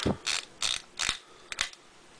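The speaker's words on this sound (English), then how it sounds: "it's got a wind up in the back there, if you can see that. You wind that up" The wind-up mechanism in the back of an Avalanche action figure is turned by hand, giving a series of short ratcheting clicks in quick bursts, close and fairly quiet with no talk.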